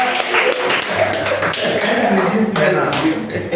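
Clapping from a church congregation during a French-language sermon, loud and close, with rhythmic hand claps and voices running through it.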